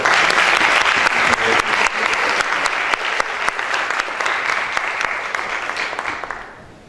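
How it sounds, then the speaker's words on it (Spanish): Sustained applause from an audience at a university lecture series, dense and steady clapping that fills the space before gradually thinning and fading out at the end. "pues démosle un aplauso por favor"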